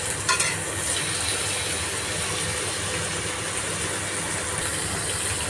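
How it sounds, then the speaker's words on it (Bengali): Shrimp fry in hot oil in a wok, giving a steady, close sizzle that continues evenly throughout, with a brief stir near the start. "তেল দিলাম চিংড়ি মাছ দিয়ে দিলাম"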